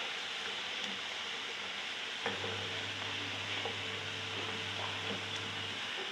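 Balushahi sweets fry in oil with a steady, quiet sizzling hiss, joined by a low hum and a few light clicks of a spoon moving through the pan.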